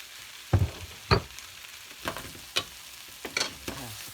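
Vegetables and freshly ground spices frying in a small pan, with a soft continuous sizzle broken by several sharp stirring scrapes and clacks spaced about a second apart; no voices.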